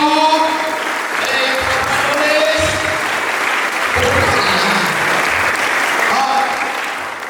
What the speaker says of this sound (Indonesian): Beri tepuk tangan pada untuk si Tito.